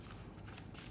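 Tarot cards drawn one at a time during a Hindi tarot reading, making soft papery shuffling and sliding rustles, close and quiet, with no talking.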